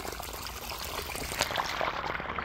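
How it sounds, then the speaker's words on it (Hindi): Irrigation water pours and trickles steadily into a farm field, a continuous close rushing flow with no talk over it. "ये जो खेत का पानी आ रहा है और इसी से हमारा खेत पट रहा है"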